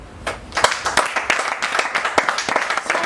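An audience in a comedy show claps and applauds, a dense run of many hands close up that stays steady for a few seconds with no talking.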